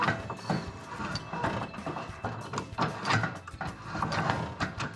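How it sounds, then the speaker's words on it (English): A misaligned chain drive on a Coleman camper roof crank clunks and rattles as the roof lowers, giving uneven mechanical knocks and grinding clicks in an irregular rhythm, close and moderately loud. "you'll feel binding and you'll hear clunking, typically as the roof comes down."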